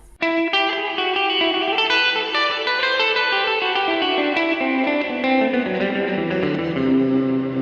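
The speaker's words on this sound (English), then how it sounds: "This one's definitely a wetter reverb." An electric guitar plays ringing chords and notes drenched in lush reverb, each one blooming and trailing into a long wash of sound.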